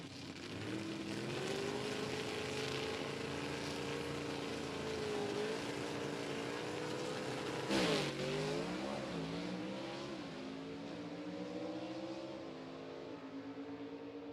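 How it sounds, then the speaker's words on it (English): Drag race cars at Rockingham Dragway roar past, engines droning with wavering, rising pitch, a brief loud burst midway, then the sound tapers and fades away. "But that's a good drag race right there."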